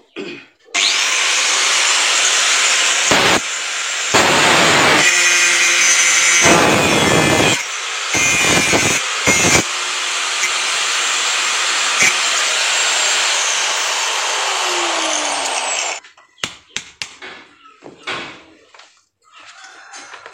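A welded ring on a car steering assembly being cut open with a power tool, a loud continuous grinding whine lasting about fifteen seconds with brief interruptions, then winding down into scattered clanks and handling noises.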